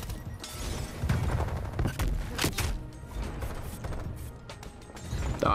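Rapid bursts of AUG assault rifle fire in a Call of Duty match on the Nuketown map, with sharp repeated shots and impacts cracking through busy game noise across the whole stretch.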